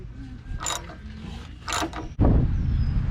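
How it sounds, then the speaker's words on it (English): Metal tool clicks and grinding creaks as a bushing is pulled out of a Volvo air-ride lower shock mount, with two ratcheting bursts followed by a louder sustained scraping pull. "you continue to pull the bushing out"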